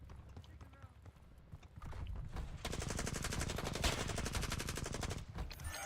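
Rapid automatic gunfire from a shooter video game, a dense rattling burst that kicks in partway through and continues loudly to the end over low background noise.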